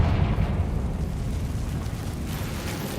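A Confringo fire spell explodes in a Hogwarts video game, a loud sustained blast with heavy low rumble and crackling debris that rolls on for the whole stretch without any talk.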